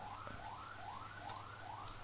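A faint ambulance siren wails in the distance, its pitch sweeping upward again and again in quick, regular cycles over a low background hum.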